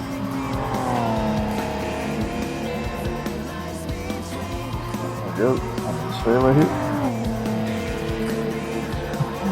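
A 1991 GTO Twin Turbo tuned to 600pp races in Gran Turismo, its engine droning at steady high revs that then drop, with tires squealing in brief bursts through a corner.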